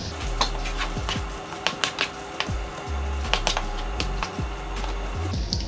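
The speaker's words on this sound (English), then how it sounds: "So we'll just start stirring all this in." Spinach stirred into a pot of vegan curry with lemon, a steady run of clicking, tapping spoon-on-pot knocks in a rhythmic series over a low bubbling bed, close and moderately loud with no talking.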